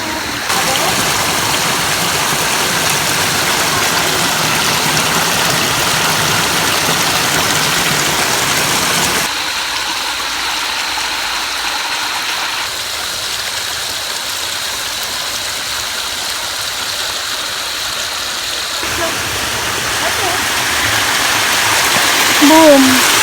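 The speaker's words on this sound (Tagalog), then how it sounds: "Daming falls dito sa Aberdeen." Waterfalls along the Upper Aberdeen nature trail in Hong Kong, a continuous loud rushing roar of falling water filling the whole stretch, changing in tone as the position shifts, with brief voices near the end.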